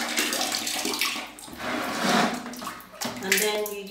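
Water running steadily from a tap or shower as skin is rinsed off, a continuous loud splashing rush lasting the whole few seconds, with a voice faintly underneath.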